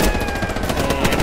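Rapid bursts of Hell Let Loose gunfire, a fast rhythmic rattle of shots close up and loud, with no one speaking.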